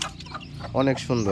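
A mother hen with eight newly hatched chicks clucks close by in a short series of soft calls, while a person speaks briefly over the sounds.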